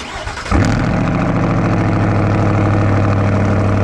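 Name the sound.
truck engine and exhaust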